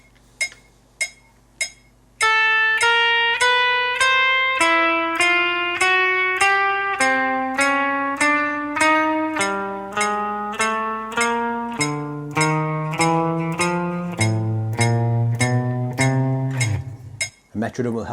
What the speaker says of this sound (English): So I've got my metronome set to 100 beats per minute